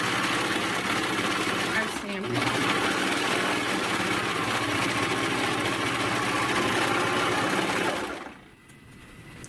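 A serger overlock machine stitches a narrow rolled hem on fabric: a steady, fast buzzing whir runs for about eight seconds, then stops, with a voice speaking over it.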